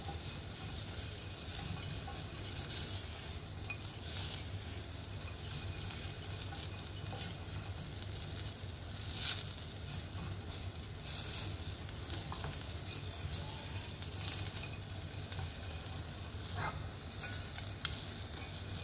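Nuts or vermicelli roast lightly in ghee in a pan, giving a faint, steady sizzle with soft crackles that carries on evenly without any talk.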